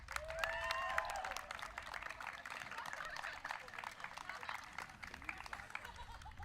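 Crowd applause at the 2022 Donaghy Cup football final at DCU, faint distant clapping that runs on steadily for several seconds, with a brief voice at the start.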